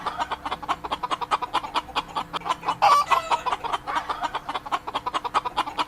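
A chicken clucks in a rapid, steady run of short, close clucks, with a brief louder squawk partway through and no voices.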